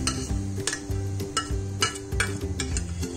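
A spoon stirs and scrapes through thick cooked lentil dal in a pan as a spice mix is added, with a soft sizzle and occasional clinks of metal against metal.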